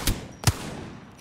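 Two sharp shots from a gun in Apex Legends, a loud one near the start and another about half a second later, then quiet game ambience.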